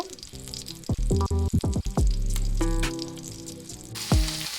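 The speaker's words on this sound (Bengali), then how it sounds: "এরপর ওই কড়াইয়ের মধ্যে কালো জিরে ফোড়ন দিয়ে সর্ষের তেল দিয়ে দেব" Nigella seeds crackling in hot mustard oil in a wok, a broad steady sizzle with a few sharp spits and clatters partway through, up close with no talking.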